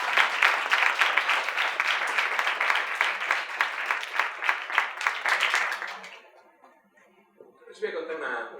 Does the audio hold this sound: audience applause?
yes